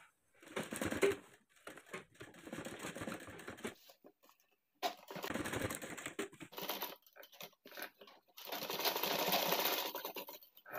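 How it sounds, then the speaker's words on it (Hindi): A sewing machine stitches a kurti neckline in several quick bursts of rapid needle chatter, separated by short silent pauses, with no voices. "यहाँ से यहाँ तक इसको बैठा के यहाँ पे सिलाई लगा लेंगे इस तरह से"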